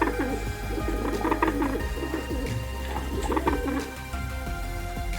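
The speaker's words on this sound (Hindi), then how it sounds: "Pigeon." A pigeon coos softly in repeated low, throaty phrases, fairly close and alone against a faint outdoor background.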